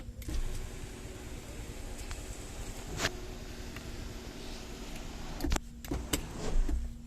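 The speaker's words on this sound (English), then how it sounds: "This much is sunroof. Now we will close this." Electric sunroof on a feature-loaded car closing under motor power, a faint steady whine and hum inside the cabin, ending with a few soft clicks and thuds as it seats.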